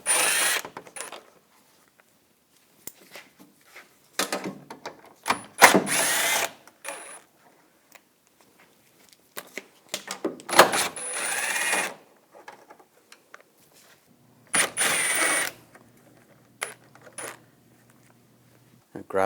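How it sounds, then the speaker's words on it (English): A 10mm socket on a power driver or ratchet backs out the grille bolts on a 2014-2018 GMC Sierra, giving short whirring bursts with pauses and faint metallic clicks and clinks between them. "Now at the base of the grill, you're going to use a 10mm socket."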